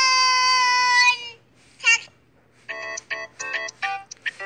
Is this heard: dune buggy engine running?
no